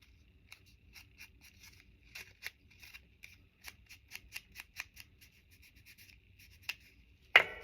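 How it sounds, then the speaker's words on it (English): Scissors snip paper while someone crafts paperclip items at a table, a series of quiet, crisp cuts at an irregular pace, ending with one louder rustle. "And we have scissors. So we are going to cut that off."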